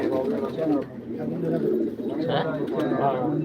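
Pigeons coo in soft, repeated low calls, close by, while people talk over them.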